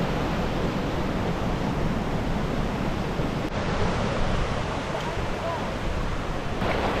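Steady, dense roar of mountain waterfalls swollen after a night of heavy rain fills the whole clip, loud and continuous with no pauses, like a powerful torrent close by.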